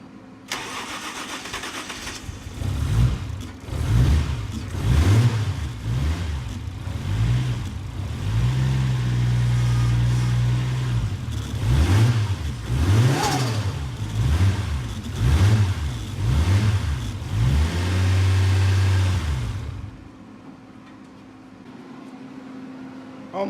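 A 1JZ engine swapped into an FC RX-7 drift car cranks, catches and idles roughly, then is blipped through a long series of sharp, rising-and-falling revs, loud and close, before cutting off to near silence.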